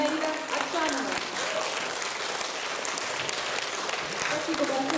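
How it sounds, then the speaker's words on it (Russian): Dense, sustained audience applause fills a theatre at the close of a festival concert, loud and even throughout, with a voice speaking over the clapping. "Спасибо большое за ваше внимание, за ваши теплые аплодисменты."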